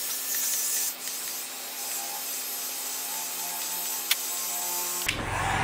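Heat gun blowing a steady, even hiss on a car's lights to soften and peel vinyl, continuous and close with a faint tick or two, then cutting off sharply near the end.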